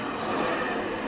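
Train wheels on a film-set railway platform at Ramoji Film City let out a thin, high squeal for a fraction of a second over a low rolling rumble that continues briefly.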